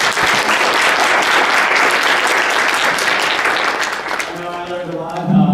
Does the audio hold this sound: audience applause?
yes